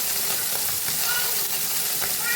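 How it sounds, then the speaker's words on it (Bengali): Small morola fish frying in hot oil in a pan, being turned over, giving a steady close sizzle and crackle with faint scraping stirs throughout. "মাছগুলো আমি উল্টে পাল্টে তা ভেজে নিচ্ছি"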